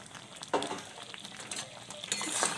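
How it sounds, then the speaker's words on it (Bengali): Fried spices being stirred into sweet jujube pickle in a pan, with soft sizzling under scattered scraping and clinking of a utensil against the pan, quiet and close, a few sharper strokes standing out. "দিয়ে ভালো করে ঘেঁটে দেবো।"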